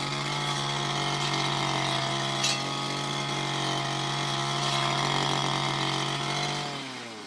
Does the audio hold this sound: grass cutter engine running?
yes